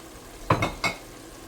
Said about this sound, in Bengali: ডাল আমি ডাল এখানে ভালোভাবে ধুয়ে নিছি তো ডাল দিয়ে দিচ্ছি